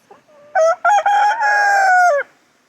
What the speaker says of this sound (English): we just got a bunch of roosters